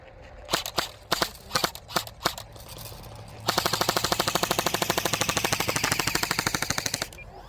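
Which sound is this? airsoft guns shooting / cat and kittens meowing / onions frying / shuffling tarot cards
airsoft guns shooting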